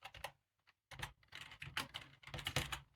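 Quick, uneven keystrokes patter on a computer keyboard in short bursts separated by brief pauses, close up and fairly quiet, with no voice over them.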